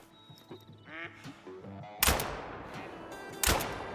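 Two loud, sharp gunshots ring out about a second and a half apart in the Call of the Wild duck-hunting video game, each decaying into an echo, after ducks quack nearby.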